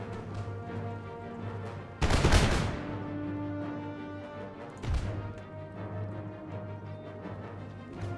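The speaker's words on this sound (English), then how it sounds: "musket balls are lashing the ground everywhere" Musket volleys in Empire Total War: two sharp, loud crackling bursts of gunfire, the first heavier, over a steady low battlefield hum.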